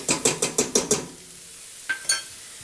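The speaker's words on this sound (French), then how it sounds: "je mélange" Wooden spoon scraping and stirring flour into softened vegetables in a pan, six quick rhythmic strokes close up, then a pause and two lighter scrapes, with no talk.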